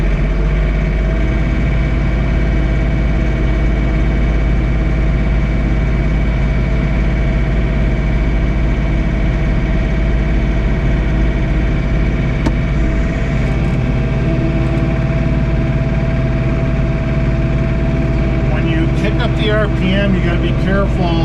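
A John Deere 3 Series compact tractor engine runs steadily while snowblowing a driveway, a continuous close, loud mechanical drone with a faint rise in revs and some clatter near the end.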